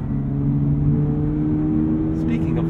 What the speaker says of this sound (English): The engine feels lively throughout the rev range.